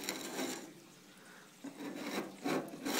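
Paint scraper rasping bubbled, rusting paint off the bare metal of a 1970 Datsun 240Z, a series of close, gritty scraping strokes with short pauses between them.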